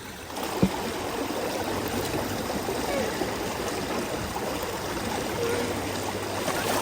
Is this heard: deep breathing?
no